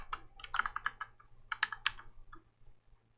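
Quick clicking keystrokes on a computer keyboard, two short bursts of typing separated by a brief pause, close and crisp over a low electrical hum, then a quieter tail.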